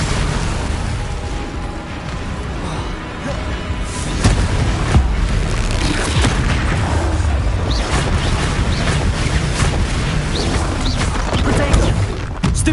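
Explosive spells blasting in combat in the video game Hogwarts Legacy, dense booms and crashes following one another over a steady loud game soundscape, with a burst of heavier impacts after the first few seconds.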